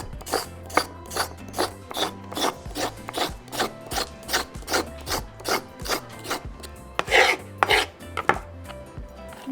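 A knife scrapes the skin off raw carrots in a steady series of short, rhythmic rasping strokes, close and fairly loud, with no talking.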